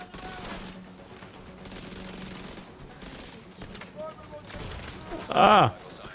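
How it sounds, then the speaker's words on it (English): Shotgun fire in the shooter game The Division 2 comes as scattered gunfire bursts in a busy firefight, with someone talking over the shots. "that shotgun hurt"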